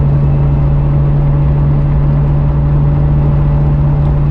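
A 29-year-old Nissan GTR R32 running smoothly while driving, a loud, steady engine drone with a strong low hum and constant road noise, with no revving surges or shuddering.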